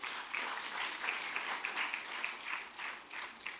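A convocation audience at a Nigerian university breaks into sustained applause, a dense steady wash of many hands clapping at moderate distance throughout.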